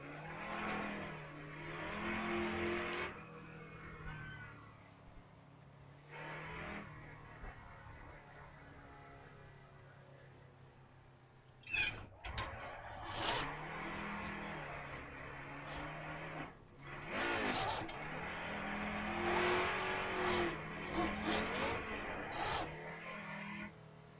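A video-game car engine revs and surges while drifting, with tire squeals and skidding bursts in uneven waves, heard at moderate loudness with quiet gaps between runs.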